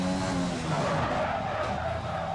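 A Formula 1 race car in F1 2020 brakes hard, its tires skidding and squealing in a loud, steady screech with engine noise under it, close and continuous throughout.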